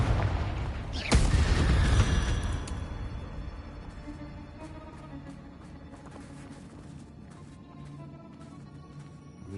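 Confringo blasting spell in Hogwarts Legacy, one sharp, loud explosion early on, followed by a long rumbling decay and scattered clicks and pops as the noise fades.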